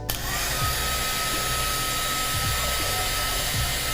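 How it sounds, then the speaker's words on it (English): A heat gun blows steadily on freshly painted crafting tools, a continuous close airy whoosh with a faint high whine running through the whole stretch without a break. "Just hit it with my heat gun to give it a little dry."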